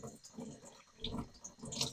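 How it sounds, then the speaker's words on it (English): Hands are rinsed under a running tap after filleting a pike, giving a faint, soft splashing stream of water with small surges. "Rinse my hands off."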